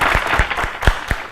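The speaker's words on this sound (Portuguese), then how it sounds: "vamos aplaudir o Pedro do violão" A studio audience claps for Pedro do Violão on an afternoon TV talk show, a short burst of applause with a few distinct louder claps standing out.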